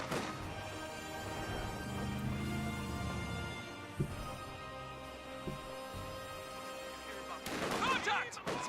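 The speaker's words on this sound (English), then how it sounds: "Contact! Small arms fire!" Video game small arms fire crackles in scattered bursts beneath continuous battle noise, with sharp single reports and a louder flurry near the end.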